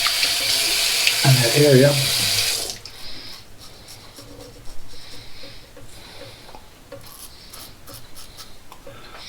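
Water runs briefly from a bathroom tap at the start of a shave with a Gillette double edge razor, a bright steady hiss for about three seconds, followed by quieter rubbing and someone talking.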